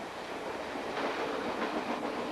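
A moving train gives a steady, continuous rumble of rails and wheels with a faint rhythmic clickety-clack at an even level throughout, and no one speaks.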